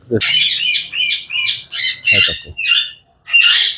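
Prized VIP-variety pet parrots basking in sunshine give a close, loud run of harsh, rapid squawks in quick succession, with a brief low voice mixed in.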